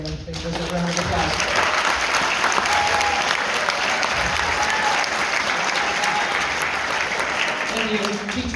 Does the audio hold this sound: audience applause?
yes